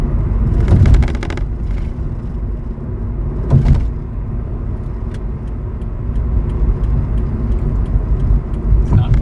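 Road traffic rolls across a busy bridge, a steady loud rumble of passing cars and vehicles with a few sharper whooshes of nearer vehicles going by.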